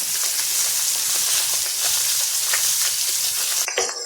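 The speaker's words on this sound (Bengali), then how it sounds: "কোরাল মাছ খুব নরম, তাই তো সাবধানে ভাজতে হয়।" Coral fish, a soft sea fish, frying in hot oil gives a dense, continuous close sizzle that holds steady throughout, with a brief shift near the end.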